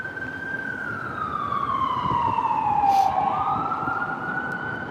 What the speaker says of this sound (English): That's the first siren I've heard all day too.